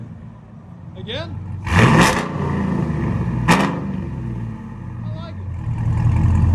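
Supercharged GMC 6.2L V8 Denali with dual exhaust and open valves, revving in short loud bursts close by, with engine rumble between blips while people talk over it.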